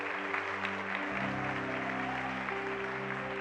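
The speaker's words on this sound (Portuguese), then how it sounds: "diga amém e aplauda lindamente o nome do Senhor Jesus" A church congregation applauds together during a worship service, a steady wash of clapping that fills the whole span, with sustained organ or keyboard tones ringing beneath it.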